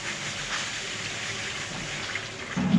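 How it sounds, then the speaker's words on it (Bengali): Water is poured steadily into a pan of simmering hilsa fish curry with taro, giving a continuous close gushing splash with no pause. "এখন আমি পরিমাণ মতো জল দিয়ে দেবো"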